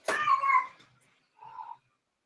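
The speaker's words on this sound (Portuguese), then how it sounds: "mas o gato tava ali desesperado" A distressed cat meows twice, a loud, drawn-out cry followed by a shorter, fainter one after a brief pause, heard close with no talking.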